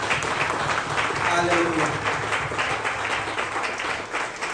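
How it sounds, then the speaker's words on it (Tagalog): A church congregation claps loudly and steadily for about four seconds, the dense applause filling the clip while a voice calls out over it. "Yung malakas na palakpak para kay Lord."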